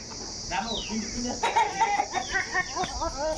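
Several chickens cluck and squawk close by in irregular bursts, with overlapping calls over a steady background hum.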